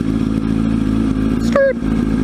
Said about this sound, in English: Ooh, backfire.